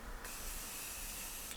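A single short hiss of setting spray misting from a pump bottle, soft and close, with a faint tap at the end.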